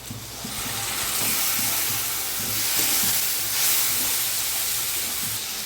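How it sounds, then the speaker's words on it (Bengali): Tomato and onion paste frying in hot oil for a Bengali chicken curry, a steady broadband hiss and sizzle that holds loud throughout with a few faint low knocks underneath. "এখানে দিয়ে দেবো টমেটো পেঁয়াজ পেস্টটা"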